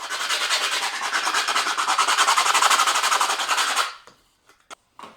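Rough P40 sandpaper rasps steadily by hand over wood for about four seconds, a loud, close, continuous scratchy rubbing with a fast back-and-forth rhythm, then stops, leaving a few faint clicks and taps.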